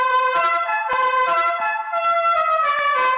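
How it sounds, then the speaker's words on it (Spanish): A vehicle horn plays the La Cucaracha melody, a run of loud, bright, buzzy musical notes in the tune's familiar bouncing rhythm, close and alone. "también obviamente conocemos el claxon de la canción clásica de la cucaracha, que es este."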